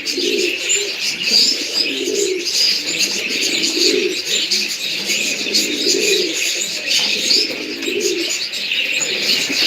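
Baska pigeons cooing in a loft, soft throaty coos repeating in a steady rhythm amid a bed of chirps and twittering birds, close and continuous.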